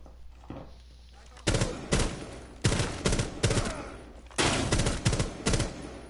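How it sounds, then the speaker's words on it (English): Rapid three-round bursts of rifle fire in Rainbow Six Siege, several clustered volleys cracking loudly over a low background hum, with short pauses between bursts. "I'm doing 3-round bursts, I think"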